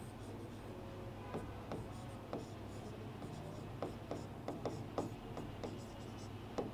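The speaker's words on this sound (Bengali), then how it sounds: "তাহলে আমরা একটু লিখি" Chalk or marker writing on a board in a physics classroom, faint scratchy strokes and taps in irregular bursts over a low room hum, with no talk during the writing.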